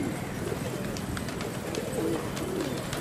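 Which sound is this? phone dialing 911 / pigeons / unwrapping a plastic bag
pigeons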